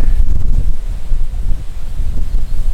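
Strong wind beside the Nevėžis river buffets the microphone in a steady, heavy low rumble that gusts and eases without pause for the whole stretch.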